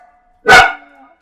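A single loud, close dog bark bursts out at once, then tails off into a short whine, with a faint electronic tone before it.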